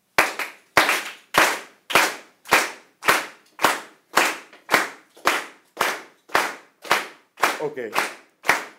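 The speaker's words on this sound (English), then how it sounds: "can we clap together?" Group of people clapping in unison at an exhibition launch, about fifteen sharp, evenly spaced claps in a steady beat, loud and close, with brief talk near the end.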